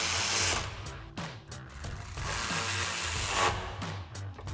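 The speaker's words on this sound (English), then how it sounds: "You want to tighten that back down with your 8mm socket." A ratchet with an 8mm socket tightening a bolt on the front control arms of a 2011-2019 rear-wheel-drive Dodge Charger gives quick, close metallic clicks in uneven bursts over a steady background hum.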